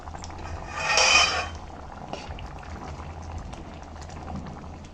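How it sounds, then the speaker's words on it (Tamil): Mochai payaru sambar in a pot bubbles and simmers softly, with a brief louder gurgling burst near the start and then a faint, steady bubbling. "குழம்பு நல்லா கொதி வந்துருச்சு"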